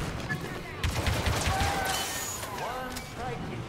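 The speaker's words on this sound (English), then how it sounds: "When I open fire, you know what to do." Blaster fire rattles in rapid bursts during a Star Wars Battlefront II mission firefight, overlapping shots close by and moderately loud, with voices talking over the shooting.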